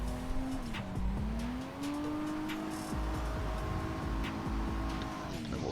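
A car practising drifting accelerates and revs up, with the engine pitch rising, dropping at an upshift into third, then climbing again, heard from a distance with tire noise underneath.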